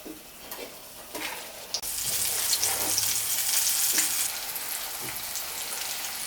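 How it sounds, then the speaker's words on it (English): Flour-dipped vegan mushroom jerk meatballs sizzle and fry steadily in a hot pan, a dense crackling hiss that swells louder partway through, with a few soft clinks early on. "so my meatballs are frying up"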